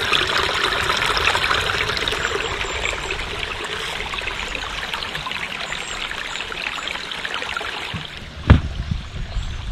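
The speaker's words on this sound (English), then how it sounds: "you've got the sound of water up here from one cascade" Water trickles and splashes steadily down a stone pond cascade, a constant close babbling wash outdoors, with a single sharp knock near the end.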